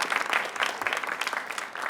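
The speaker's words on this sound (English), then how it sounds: "Can we have a round of applause for these incredible students?" An audience applauds high school students at a varsity quiz competition. The clapping is dense and steady, a sustained wash of many hands throughout, with no voices over it.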